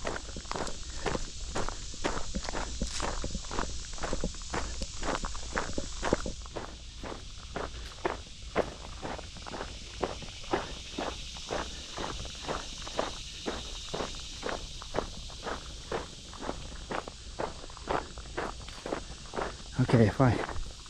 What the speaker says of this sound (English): See if you hear my footsteps on these little rock and gravel down here.